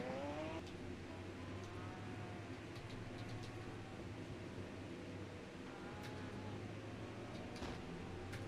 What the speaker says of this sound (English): I can actually hear the other cars around me now.